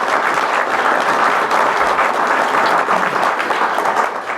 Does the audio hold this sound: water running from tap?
no